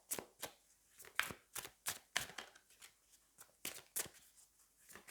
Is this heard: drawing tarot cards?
yes